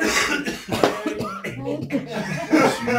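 A few sharp coughs break out amid chatter and light chuckling from several people nearby during a church gathering.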